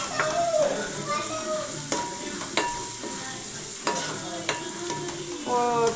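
Fish pieces frying in hot oil for a fish curry are stirred and turned, with a steady sizzle running under repeated sharp clinks and scrapes of the spatula against the pan, close and fairly loud.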